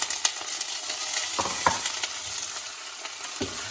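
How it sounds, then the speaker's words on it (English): Okra with garlic sizzles in a hot pan while it is stirred, a continuous close frying hiss broken by a few scraping spoon strokes, with no talking. "Give them a quick stir."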